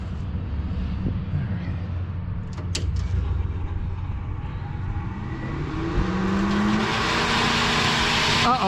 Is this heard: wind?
no